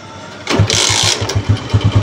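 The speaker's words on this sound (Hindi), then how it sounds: "मुझे पहले बाइक अंदर कोल्ड स्टार्ट कर लें, कोल्ड स्टार्ट खत्म कर लें" A Honda 125 motorcycle engine cold-starts after sitting unused for days, with a short cranking whir that catches into a loud, close, lumpy idle with an uneven pulsing beat.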